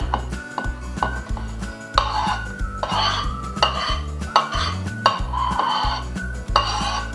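Utensils clink and scrape against a pot as toppings go into homemade ramen, a steady run of close metallic knocks and rattles with no talking.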